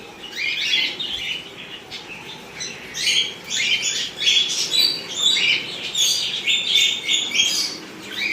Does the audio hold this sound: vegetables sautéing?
no